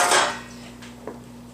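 Greased metal loaf pans are set down on a counter in a home kitchen for pumpkin bread: one loud clattering clank at the start, then a fainter knock about a second later, with no talk.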